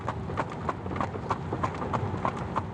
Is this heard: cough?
no